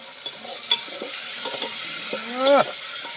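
Tamarind curry with tomatoes frying in a pan, a steady soft sizzle with occasional stirring scrapes and a brief louder clatter near the end, no voices.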